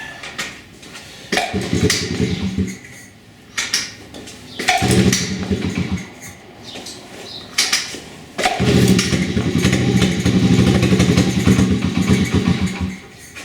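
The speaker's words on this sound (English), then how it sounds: "Started first kick on choke, it's not bad. See if it'll run with choke off." A 1994 Honda Z50R mini bike's small engine, being started with the choke on and off, runs in loud bursts with rough idling, cutting out and restarting several times, up close with no talk.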